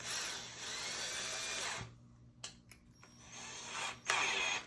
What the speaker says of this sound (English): I am going to need to drill a hole in this.